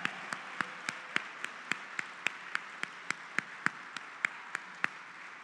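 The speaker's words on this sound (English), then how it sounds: "So one more big round of applause for all of our World War II veterans." Sparse, evenly spaced claps at a museum gallery opening reception, one sharp clap roughly every half second, like a slow rhythmic round of applause in a quiet room.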